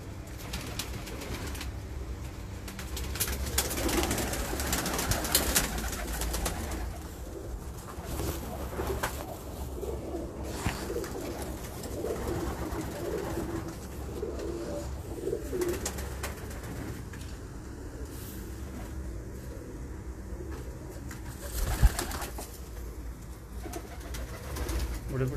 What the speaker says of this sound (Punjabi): ਸਾਰੇ ਦੇ ਸਾਰੇ ਬਰੀਡਰ ਕਬੂਤਰ ਨੇ।